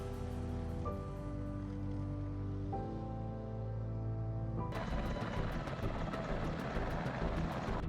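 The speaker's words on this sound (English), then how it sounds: "The UH-60L Blackhawk is a medium-lift utility helicopter" UH-60L Blackhawk medium-lift utility helicopter flying, a steady dense rotor and turbine roar with shifting engine tones and rapid rhythmic blade chop growing stronger partway through.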